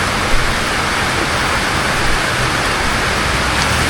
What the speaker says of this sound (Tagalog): walang tigil daw ang ulan dito simula kagabi